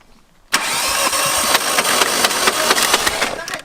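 A Volkswagen TDI diesel car engine cranks abruptly after a quiet moment, then keeps up a loud, rough, rhythmic churning and knocking while trying to start.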